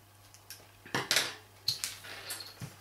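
Scissors snip through the fabric label of a washcloth in several sharp, crisp cuts spaced unevenly over a few seconds, close and clear with no talking.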